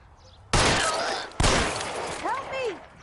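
Gunfire in the L.A. Noire video game: two loud, close blasts about a second apart, each trailing into a ringing decay, followed by a voice.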